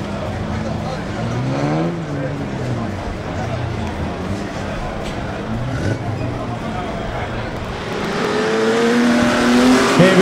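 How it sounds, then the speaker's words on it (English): Pre-1990 unlimited banger racing cars roaring around an oval track at Mildenhall, engines revving and rising as the pack gets away, with a commentator talking over the noise. "We're away racing for our first of our four all-comers for race number six."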